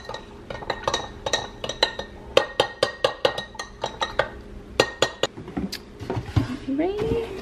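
A spoon clinks repeatedly against a glass while cold brew and milk are stirred, giving a quick irregular run of sharp chimes up close, then a short scrape and muffled talk at the end.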